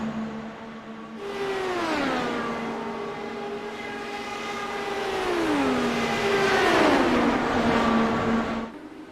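IndyCar race car engines at Michigan, one car sustaining a loud, high-pitched whine that drops in pitch at each upshift and climbs again, with a second engine note layered in, with no talk.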